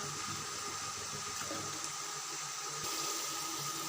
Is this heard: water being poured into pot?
yes